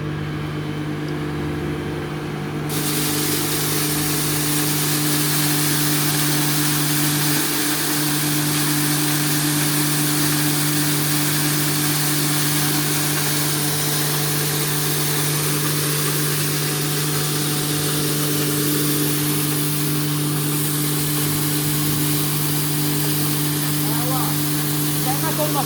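A 5.5 kW, 220 V electric feed grinder crushes barley, starting up a few seconds in and then holding a loud, steady mechanical drone with a constant hum for the rest of the stretch.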